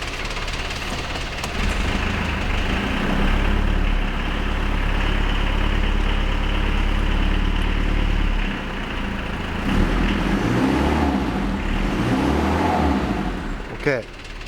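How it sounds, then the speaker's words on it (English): A 1986 Mitsubishi Pajero turbo diesel cranks and catches, then settles into a rough, clattering idle that stays close and steady, with voices speaking over it. "Anyway, let's start the engine."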